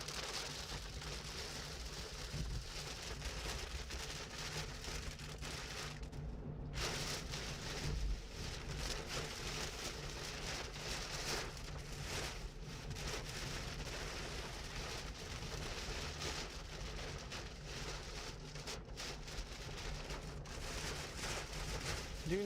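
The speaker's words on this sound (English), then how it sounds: "Just rain. Lots of rain." Heavy rain pours steadily during a tornado chase on Missouri Route 129, a dense, continuous hiss of drops drumming on surfaces, with no voices.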